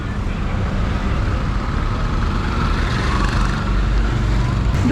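Heavy road traffic in Colombo, near the Port City and the Shangri-La hotel, rumbles as a steady, loud wash of car, bus and truck engines with no breaks.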